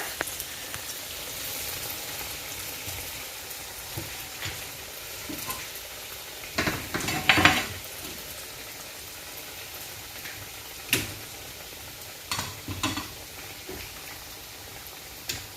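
Chicken cutlets frying in oil over medium heat, a continuous close sizzle with occasional louder crackles and pops, no voices.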